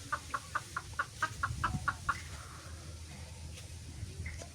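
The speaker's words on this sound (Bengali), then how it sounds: "আর মুরগিগুলো চিল্লি করতেছে।" Farm chickens cluck in a quick regular run of about ten calls, then squawk more loosely, faint and moderately distant over low background noise.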